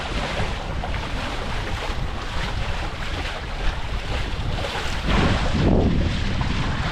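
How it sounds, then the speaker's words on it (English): Strong wind buffets a MiniCat 520 Explorer catamaran sailing through the Stockholm archipelago, a steady loud roar of gusts and water rushing past the hull that swells near the end. "So the winds are a bit stronger now."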